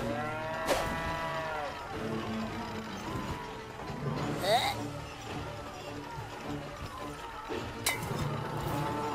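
Cows mooing in South Park The Stick of Truth, long low moos heard under and between voices talking, with a clink and scuffling in the background.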